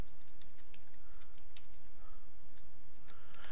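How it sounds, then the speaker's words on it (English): Typing on a computer keyboard: scattered soft key clicks in irregular bursts, fairly faint against steady background hiss, no talking. "Hold on 1 second, I'm typing this in."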